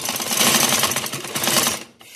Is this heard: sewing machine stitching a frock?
yes